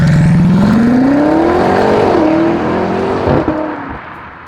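A BMW M8 accelerating hard, its engine note climbing steadily in pitch for a few seconds before a brief dip and a shift, loud and close with no talking.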